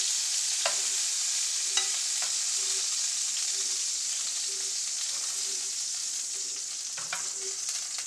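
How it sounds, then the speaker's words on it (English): Venison steaks sear in a hot pan with a loud, steady close sizzle and crackle. Occasional soft clicks and scrapes of turning the meat break the hiss. "once they're seared on both sides, you want to pull them out quick"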